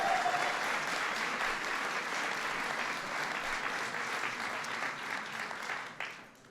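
An audience at a St. Patrick's Day celebration breaks into sustained applause, a dense, even wash of clapping that holds steady for several seconds before thinning out near the end.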